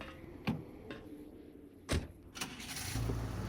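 A vehicle driving in the S.T.A.L.K.E.R.: Lost Alpha video game: a low engine rumble with a few sharp knocks and thumps, rising toward the end, and no voices.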